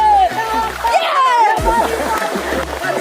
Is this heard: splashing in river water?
yes